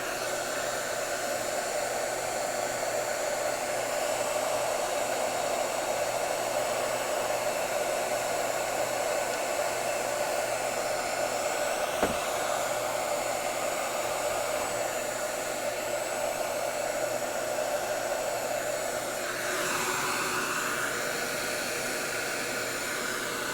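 A heat gun blows a steady, loud, even hiss of hot air onto a PVC fitting being heated for bending, running unbroken throughout with no talking.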